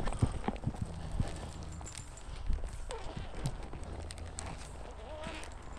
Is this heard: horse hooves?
yes